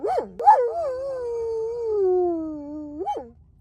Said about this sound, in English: we gained coyotes howling in the distance, which Sparrow thought was a great thing to